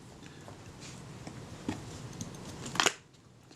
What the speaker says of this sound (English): Squeezing the advance very slowly, the shutter release very slowly.